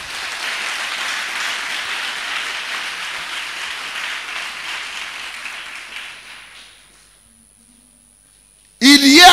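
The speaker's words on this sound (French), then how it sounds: "On acclame le Saint-Esprit." A church congregation claps and cheers in acclamation of the Holy Spirit, a dense, sustained wash of applause that fades away over several seconds before a voice breaks in.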